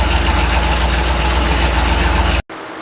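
A loud, steady Jeep engine fitted with FiTech fuel injection idles with a constant low rumble, then cuts off abruptly near the end, leaving quieter background.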